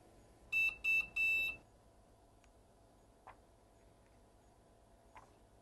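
A heat press timer finishing its countdown gives three quick, loud electronic beeps in a row, then a couple of faint clicks against a quiet background hum.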